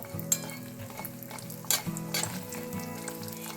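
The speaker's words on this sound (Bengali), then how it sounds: "এবার তেলের মধ্যে আমি দিয়ে দিচ্ছি বড়ি। বড়িগুলো লাল লাল করে ভেজে নেব।" Lentil bori dumplings fry in hot oil for a bottle gourd leaf and poppy seed dish, giving a steady close sizzle with a few sharp spatter bursts and a low bubbling hum throughout.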